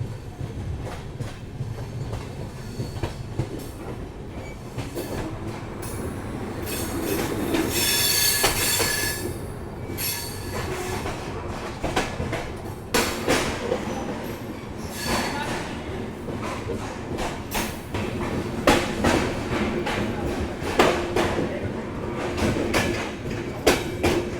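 The Mumbai–Howrah AC Duronto Express runs through a junction without stopping. Steady rolling rumble, rhythmic wheel clatter and occasional squeals are heard close by, with speech at times.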